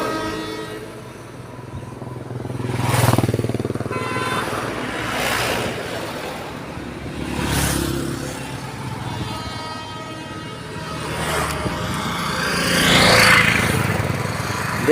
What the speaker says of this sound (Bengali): দেখলেন দার্জিলিং যাবে ট্রেনটা, একটা বগি একটা ইঞ্জিন।